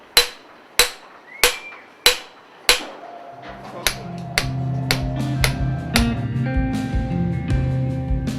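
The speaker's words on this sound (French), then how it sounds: "On scie, on éclate la pierre pour enlever les blocs de la structure du portail." Stone blocks are split and sawn during cathedral restoration work: a series of sharp, evenly spaced hammer blows on stone, then a steady low mechanical drone of cutting joins in under further strikes.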